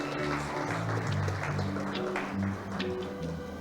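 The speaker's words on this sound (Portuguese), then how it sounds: "Uma salva de palmas para os nossos visitantes." Church congregation applause welcoming visitors at an evening service, a soft scatter of claps under a sustained bed of keyboard or organ chords, fairly faint and blended with the music.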